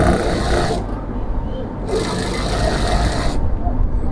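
A sewing machine stitching around a shirt armhole, two bursts of rapid, close mechanical whirring with a brief pause between them, and a voice talking over it.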